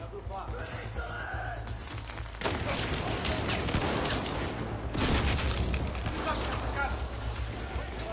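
Battlefield 4 gameplay with a continuous, muffled rattle of gunfire and scattered impacts beneath a steady low hum, while a player talks over the action.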